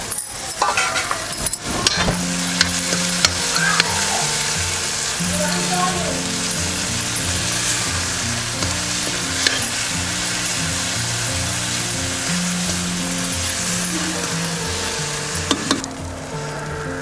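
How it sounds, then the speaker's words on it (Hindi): Tomatoes with salt sizzling loudly in a pan and stirred with a utensil, steady frying hiss with scraping and clinks, while soft background music plays. "ये देखिए हमारे टमाटर भी अच्छे से भून गए हैं"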